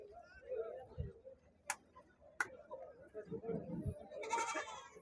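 Rams bleat amid the bustle of a livestock market, with a loud, harsh bleat near the end rising over steady crowd chatter and a few sharp clicks.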